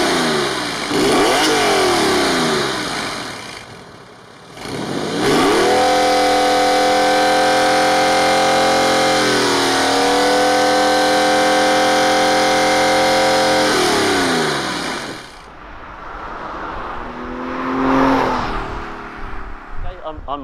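Porsche 996 Carrera 4 with Tiptronic gearbox and an aftermarket sports exhaust, revving loudly up and down in repeated sweeps, then settling and blipping again; close and strong throughout, with a person talking over parts of it.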